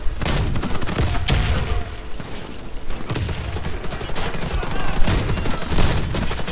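Rapid shotgun fire from a Saiga bullpup in a first-person shooter, with dense repeated blasts continuing throughout amid game noise, fairly loud and close.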